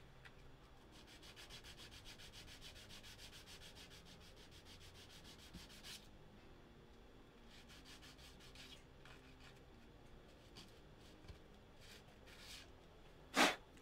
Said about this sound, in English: I'm going to sand it a little bit.